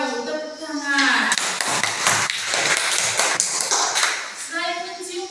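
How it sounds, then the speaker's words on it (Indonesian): A classroom of students bursts into clapping on cue, a dense burst of many small hands that swells and fades over a few seconds, with a teacher's voice heard before and after it. "Tepuk tangan."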